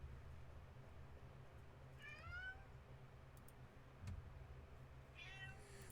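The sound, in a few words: cat meowing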